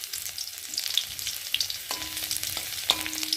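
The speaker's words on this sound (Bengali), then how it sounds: "রসুন একটু ভালো করে ভেজে নেব" Garlic sizzles in hot oil in a pan with dried red chillies and bay leaf, making a steady close crackle with occasional sharper spits and a couple of brief tonal scrapes from stirring.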